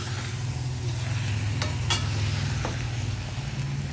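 Bitter gourd (ampalaya) sizzling in a pan, a constant close frying hiss with a few brief scraping clicks of stirring.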